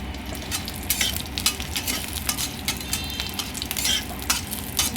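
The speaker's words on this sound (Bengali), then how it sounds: "আমি একটু কাঁচা লঙ্কাটা ফোড়নে দেবো" Green chili fries in tempering oil with cumin, bay leaf and dried red chili for khichdi. A constant crackling sizzle carries repeated spoon scrapes spread across the whole stretch, with no talking.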